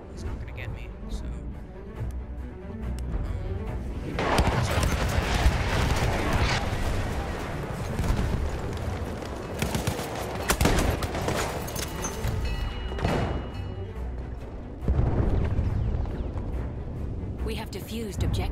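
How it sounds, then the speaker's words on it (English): Battlefield 1 artillery barrage: a series of heavy, booming impacts and rumbling blasts with scattered gunfire, loud and continuous over about eighteen seconds, with a voice talking over parts of it. "Enemy coordinates have been sent to our artillery."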